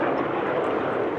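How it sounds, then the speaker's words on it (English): A Cirrus Vision Jet passes overhead at an airshow, heard as a steady, loud broadband jet roar with no break and no voices. "There goes one of the jets. That's the jet right there. There's the jet. That's the Cirrus jet."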